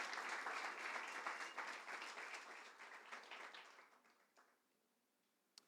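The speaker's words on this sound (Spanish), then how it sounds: "Y dale un aplauso a Dios." A church congregation bursts into applause, a full crowd clapping loudly at first, then fading away over a few seconds into near quiet, with a single sharp tap at the end.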